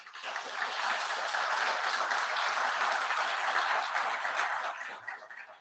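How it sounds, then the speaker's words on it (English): Conference audience at a RIPE meeting giving a round of applause for the local host, a sustained, even clapping that swells and fades out over several seconds. "which deserves a round of applause on its own"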